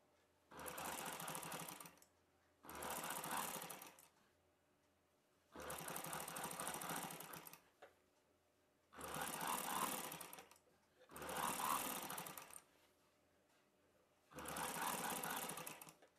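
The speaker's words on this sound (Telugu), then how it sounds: "ఇప్పుడు ఈ నెక్ పైవైపును పెట్టి కుట్టు వేసేసుకోవాలి" Six bursts of a sewing machine running, each about one to two seconds long, with short pauses between them, as the neck of an umbrella dress is stitched.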